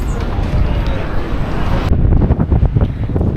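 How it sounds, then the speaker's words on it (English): Heavy wind on the coast of Syros, Greece buffets the microphone in loud, continuous gusts, with a roaring low rumble throughout. "You can see how windy it is."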